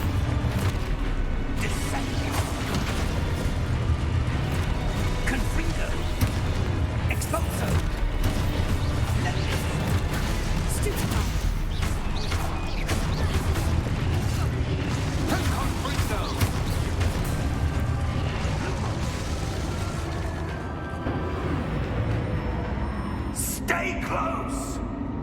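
Explosive spells such as Confringo and Descendo cast during Hogwarts Legacy gameplay, a dense run of booms, crashes and creaking mechanisms under a voice calling out.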